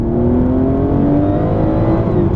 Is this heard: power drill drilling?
no